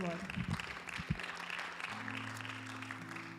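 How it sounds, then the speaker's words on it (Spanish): Church congregation applauding for the Lord in a short burst of claps, with a voice speaking over it and a lingering hum. "applause to the Lord."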